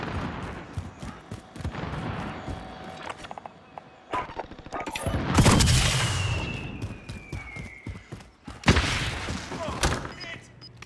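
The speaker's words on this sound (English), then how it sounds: "Assault rifle." Assault rifle fire in the shooter Modern Warfare: rapid, loud bursts of shots with thumping impacts, a swelling explosion-like roar midway, and another heavy burst near the end, with a voice speaking now and then.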